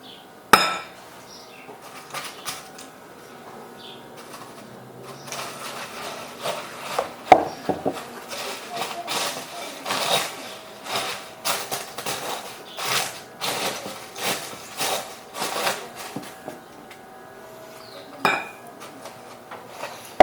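Ingredients for a crostoli cake being mixed in a bowl: repeated clinks and scrapes of a utensil against the bowl, close and fairly quiet, coming in uneven bursts with no talking.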